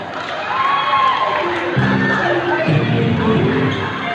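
An indoor crowd at a volleyball exhibition game claps and cheers for an introduced player, a dense roar of voices and applause that swells midway.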